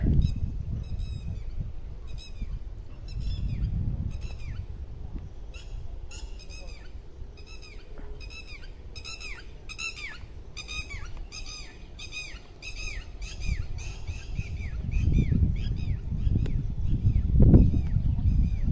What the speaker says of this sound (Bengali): সাথে পাখির ডাক।